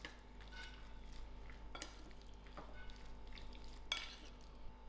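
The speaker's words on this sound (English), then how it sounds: "I'll give this a nice mix" Goat curry being stirred in a pot, with a few scraping clicks of a spoon against metal over a faint, steady background hum; quiet and close, with no talking.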